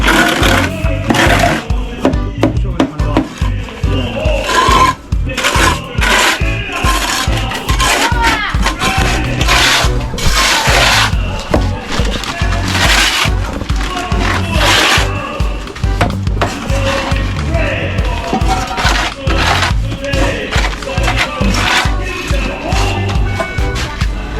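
Wood is scraped in steady, rough back-and-forth strokes that continue loudly and close for the whole stretch, with no talk.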